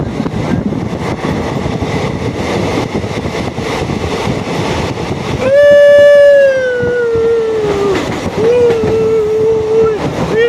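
A train runs through a tunnel between Khandala and Karjat, a continuous loud rumble with a long, wavering horn blast sounding partway through.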